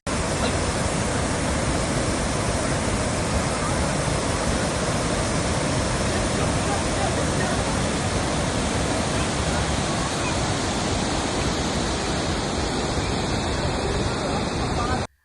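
The flooded Painganga river in Mehkar taluk rushes with a dense, loud, constant roar of churning floodwater that barely varies across the whole stretch.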